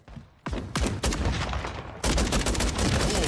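A KV Broadside battle rifle in a shooter game fires loud, close shots, first as several separate cracks and then as sustained rapid fire, with no talking.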